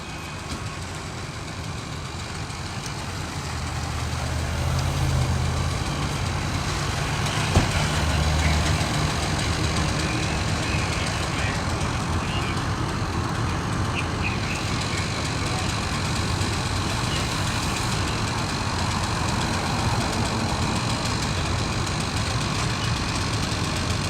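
Fire apparatus engines idle at a house fire at Bellevue and Route 1 in Alexandria, a steady low diesel rumble with outdoor background noise and a brief thump.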